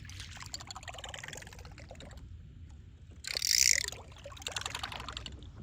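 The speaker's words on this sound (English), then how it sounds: "Top water spinner, makes a lot of noise, sounds really cool." A brief burst of splashing and bubbling on water from a topwater spinner lure churning the surface at night, between quieter stretches of outdoor ambience.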